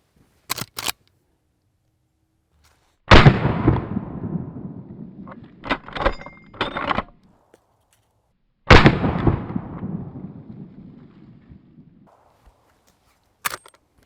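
A Henry Big Boy Steel rifle fires .32 H&R flat point rounds, two loud sharp shots several seconds apart, each with a long rolling echo outdoors, framed by faint clicks of handling the gun.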